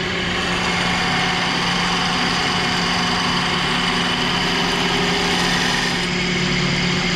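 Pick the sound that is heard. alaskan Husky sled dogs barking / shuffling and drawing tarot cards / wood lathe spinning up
wood lathe spinning up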